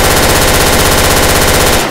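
Rapid automatic gunfire in Left 4 Dead 2, a loud unbroken burst of shots that carries on for nearly two seconds before cutting off.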